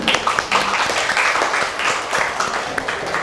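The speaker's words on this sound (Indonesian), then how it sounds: "Kita kasih aplaus." A group claps in brief, steady applause after a student's presentation on sleep and concentration, many hands patting quickly at close range.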